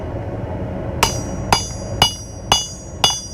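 A hammer strikes hot metal on an anvil while bolt tongs are forged, five sharp ringing blows at an even half-second rhythm, close and clear over a low background hum.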